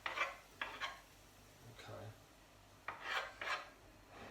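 Onions, carrots, celery and garlic are stirred in a pan, a spoon scraping and rasping against the metal in several short strokes over a faint sizzle, close and fairly quiet.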